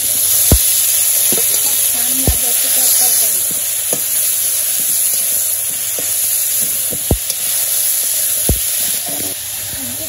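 Eggplant frying in a pan over a village kitchen fire, a steady hissing sizzle with intermittent sharp knocks of a spatula stirring against the pan, fairly close and continuous without speech.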